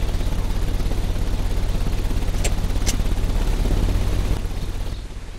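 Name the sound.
ventilation system running, from Sherlock Holmes video game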